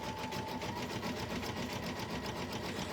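Steady, even whir of a sewing machine stitching a stuffie at its largest size, continuous rapid stitching throughout with no pauses or voices.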